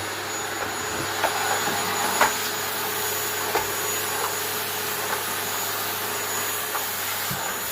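An Electrolux Clean500 vacuum cleaner runs on a linoleum floor, giving a steady broadband motor whine and airflow roar with faint clicks and bumps, no voices.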